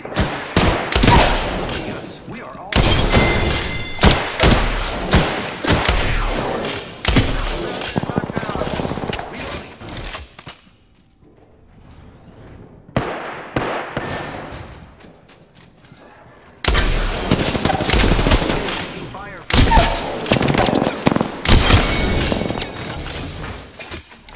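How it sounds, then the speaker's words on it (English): Gunfire in Apex Legends, a Peacekeeper among the weapons: sharp bursts of rapid shots and heavy blasts in clusters, with a quieter lull midway before intense firing resumes. "Shots fired."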